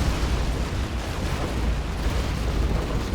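Scud missile strike explosion in a Command & Conquer Generals match, a sustained rumbling roar of blasts with heavy low-end that fills the whole stretch without letting up.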